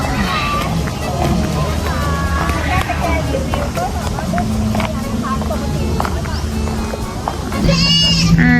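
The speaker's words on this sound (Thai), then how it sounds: "แพะแองโกลานะคะ" Angora goats at an outdoor animal area bleat amid a busy crowd, with a few short calls rising over steady chatter and children's voices, and a louder cry near the end.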